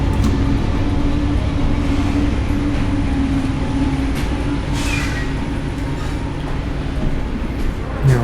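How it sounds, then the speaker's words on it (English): A passing freight train heard from indoors as a steady, heavy low rumble and rolling clatter of wagons that lasts throughout, with faint higher rattles and squeals on top. "There's that freight train."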